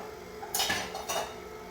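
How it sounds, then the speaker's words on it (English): Dirty dishes and metal utensils clatter in a home kitchen while a butter cake is being made, with two short bursts of clinking about half a second apart. The sound is moderately close and heard alone. "now I have dirty dishes."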